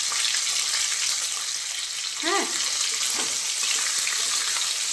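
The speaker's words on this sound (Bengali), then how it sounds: "মাছের মাথাটা ভাজছি" Fish head frying in hot oil in a pan, giving a steady, close crackling sizzle throughout with a brief voice heard partway.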